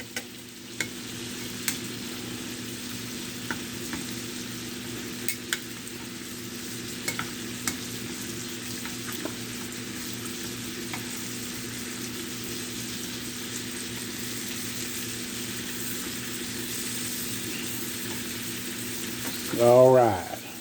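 Blackened shrimp fry in a pan with a steady, close sizzle and occasional pops, holding even for about twenty seconds before a brief louder swell near the end.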